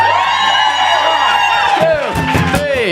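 A live concert crowd at an outdoor stage cheers and whoops loudly, with many voices in overlapping shouts and yells that swell in bursts, close and dense.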